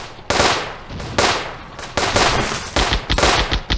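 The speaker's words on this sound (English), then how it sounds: "Got some machine gun fire going up the street there." Machine gun fire raking a street in a WW2 real-time strategy game: repeated loud bursts of rapid gunfire, several long rattling volleys in quick succession, close and dense with no talking.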